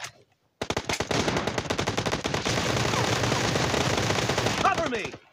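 Automatic gunfire in a video game team deathmatch: a long, loud, rapid stream of shots starts after a short pause and runs on, with a brief voice near the end.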